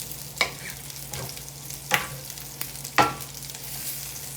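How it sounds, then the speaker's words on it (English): Sausage bits browning in a cast iron pan for biscuits and gravy: a steady low sizzle broken by three sharp scrapes of a utensil against the iron, close up, with no one talking. "Some of these sausage bits are getting nicely browned and crisp."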